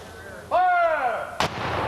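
A cannon fires at a Civil War re-enactment: one loud blast with a ringing, falling tone, followed about a second later by a second sharp crack, over steady outdoor background noise.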